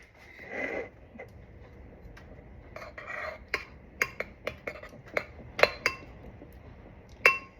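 Eggs being stirred for an omelette, a utensil clinking against a bowl in a run of sharp, separate taps, some quick and close together, at a low level in a quiet room.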